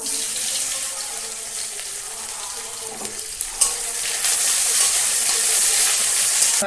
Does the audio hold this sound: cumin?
yes